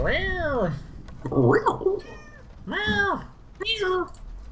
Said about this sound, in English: I don't know if you heard my cat.